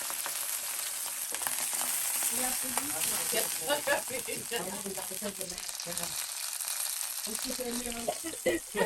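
A sausage sizzles and fries in a pan on a gas stove, a steady hissing crackle with stirring and scraping, while people talk over it.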